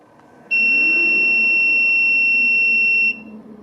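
A Datou Boss DT4811B 11 kW inverter gives one loud, steady high-pitched beep lasting about two and a half seconds as it switches on, then falls silent over a low background hum.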